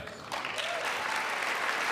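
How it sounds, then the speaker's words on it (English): Audience applause at the State of the Union address: a large chamber crowd breaks into dense, sustained clapping after a brief quieter moment, filling the rest of the moment evenly. "They couldn't even get a standing clap for that one"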